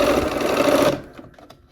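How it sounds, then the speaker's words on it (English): A sewing machine runs steadily and loudly while stitching quilt block pieces cut from engineered-corner templates, then stops abruptly partway through, leaving faint handling noises. "All right, here we are at the machine. We're gonna go ahead and just sew"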